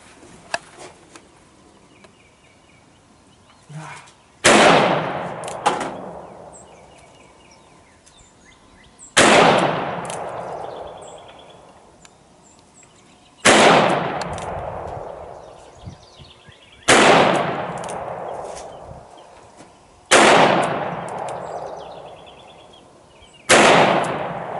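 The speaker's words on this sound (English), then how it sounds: "Going to fire six shots, single action, and six shots, double action" Six loud, sharp shots from a Korth Mongoose revolver firing 9mm, spaced several seconds apart, each with a ringing outdoor decay, with faint clicks and handling noise between them.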